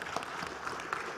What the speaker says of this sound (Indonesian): Boleh dong kasih aplaus buat beliau.